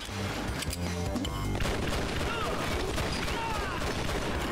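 Rapid video game gunfire from Red Steel, a dense continuous barrage of shots and booms filling the whole stretch with no pause.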